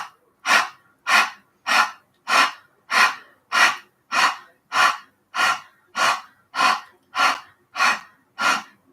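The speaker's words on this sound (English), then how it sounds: "Take a cleansing breath in, let it all go" A steady run of about fourteen deep breaths in and out at an even rhythm, close and clear with no voice over them.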